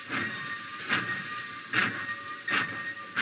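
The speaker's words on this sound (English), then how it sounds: "He watched the black train." Departing black train as a 1956 radio drama sound effect, rhythmic hissing chuffs repeating about every eight tenths of a second over a steady whistle-like tone, fairly loud and alone.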